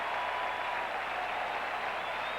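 A football stadium crowd at a 1979 NFL game, 49ers at Rams, applauding as a steady, distant wash of clapping and cheering, even in level throughout, with no clear talk.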